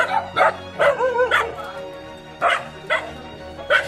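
Several dogs at a shelter in the Philippines bark and yip in short, loud bursts close by, with brief pauses between clusters of barks and a whimpering edge.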